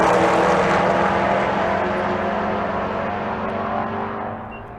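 A diesel BMW makes an 11-second drag strip pass at Bandimere, its engine a loud, steady roar that slowly fades as the car pulls away down the track.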